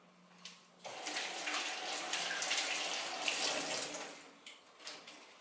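A kitchen faucet runs steadily while a pumpkin is washed under it, a moderately loud continuous water rush with splashing changes as the stream hits the vegetable, no talking.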